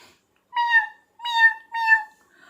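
Three clear, separate cat meows follow each other at a steady pace, close and distinct against silence, used as a sound effect in a children's story about many cats arriving at a house.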